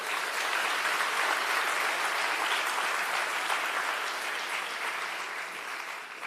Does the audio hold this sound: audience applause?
yes